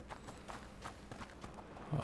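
Horse hooves clip-clopping in the video game A Plague Tale: Innocence, a steady run of moderately loud footfalls repeating about every quarter second, with no talk over them.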